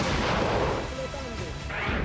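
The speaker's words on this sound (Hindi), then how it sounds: "फिर अगले कुछ ही पलों में एक के बाद एक कई धमाके होते दिख रहे हैं।" Explosions go off one after another during a US strike in Venezuela, heavy rumbling blasts in news footage that sound distant and harsh, merging into a continuous roar.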